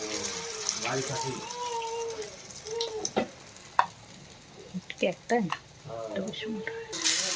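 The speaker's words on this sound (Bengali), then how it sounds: "একটা একটা করে সবগুলা আমরা ভেজে নেব" Eggplant chops coated in besan batter fry in hot oil with a continuous sizzle and crackle, interrupted by small splashes and clinks as pieces are added, while a person speaks over it.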